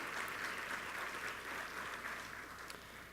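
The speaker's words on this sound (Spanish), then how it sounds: "Por favor, recibamos con un aplauso a Carlos Uribe Parente." An audience at a university lecture on the transition to an accusatory criminal justice system welcomes the speaker with continuous applause, full and even before tapering slightly toward the end.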